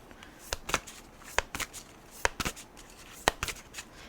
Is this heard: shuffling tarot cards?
yes